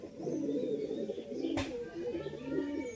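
Golden eye male pigeon cooing while held in a hand, soft low repeated coos close by with a quiet voice in the background.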